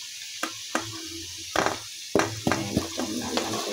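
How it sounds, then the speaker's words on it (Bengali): Potatoes frying in a pan for a meat curry, a faint sizzle broken by sharp spatula taps and scrapes against the pan at irregular intervals, with no one speaking. "চলো লাল লাল করে আলুটা ভাজা হোক"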